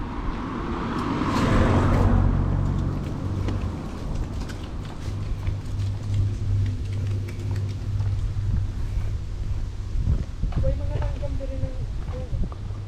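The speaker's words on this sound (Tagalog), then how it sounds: "Mukhang may sasakyan, ah." A car passes on a coastal road near Cape D'Aguilar with the sea nearby. It swells to a loud, near rush early on, then fades into a steady roadside wash.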